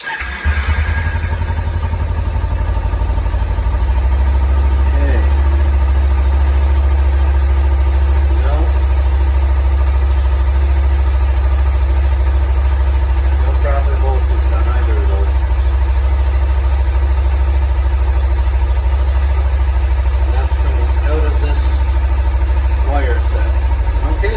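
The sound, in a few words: Kawasaki engine idling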